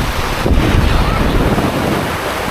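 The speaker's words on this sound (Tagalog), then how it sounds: "kahit malakas ang hangin" Strong wind buffets the microphone in a constant loud roar, with a rumbling, surf-like wash underneath.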